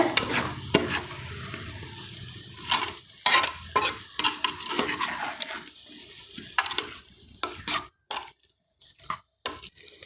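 Repeated scraping and stirring of prawn and plantain curry in a pan, with light sizzling and clinking of a utensil, irregular strokes close to the microphone.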